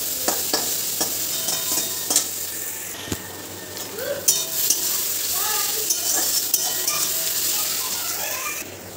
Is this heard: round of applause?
no